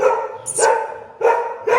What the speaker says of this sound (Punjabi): ਇਹ ਬੜਾ ਭੌਂਕਦਾ